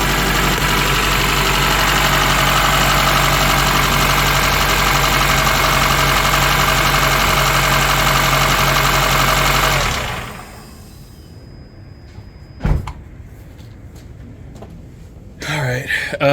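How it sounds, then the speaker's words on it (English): Car engine idling with a ticking valve on a Honda Element, a loud steady drone with a faint rapid tick, running for about ten seconds before it cuts off, leaving near silence with a few clunks. "now I hear a tick, and that's probably the valve"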